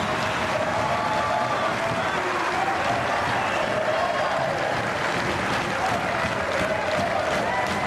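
A tennis crowd at the Australian Open, on its feet during a second-round match, gives loud sustained applause and cheering that fills the whole stretch, with a commentator speaking over it.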